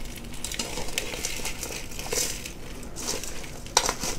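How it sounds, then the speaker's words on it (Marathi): Coarse salt being mixed into raw mango pieces, a faint crunchy, crinkly rustling with scattered gritty bursts and a brief sharper clink near the end. "मी सर्वप्रथम या कैऱ्यांमध्ये हे जाडं मीठ टाकते। मिठाला आधी आपण छान एकत्र करून घेऊया कैऱ्यांमध्ये"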